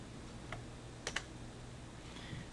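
A few soft, sparse keystrokes on a computer keyboard as a number is entered, quiet isolated clicks over a faint steady background hum.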